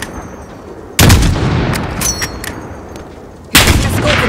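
Gunfire in Call of Duty: Modern Warfare, two loud close shots about two and a half seconds apart, each followed by a sustained rumbling tail with scattered smaller cracks in between.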